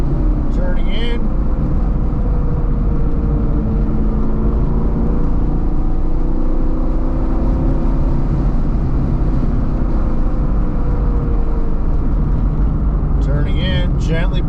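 A BMR-equipped sixth-generation Camaro laps a road course, its engine a continuous loud in-cabin roar that rises and eases gently through turns, with someone talking over it.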